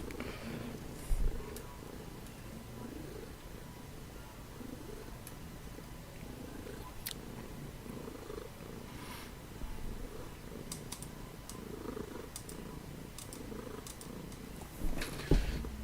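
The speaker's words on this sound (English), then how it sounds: "If you hear the meowing in the background, that's another cat." A domestic cat purrs softly and continuously in the background, a quiet low rumbling drone with occasional faint clicks and taps over it.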